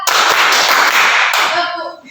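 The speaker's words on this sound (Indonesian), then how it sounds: "Tepuk 1, tepuk 2, tepuk 3, tepuk 4," A school class claps together in a counted rhythm pattern, a burst of sharp, close hand claps that trails off into voices chanting along at the end.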